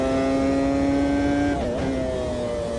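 Race car engine roaring loudly and steadily at high revs on a mountain circuit, its note dipping briefly partway through before holding again, with no talk.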